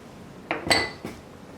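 A utensil clinks against a bowl as mayonnaise, honey and hot sauce are stirred together, giving three short metallic taps in quick succession.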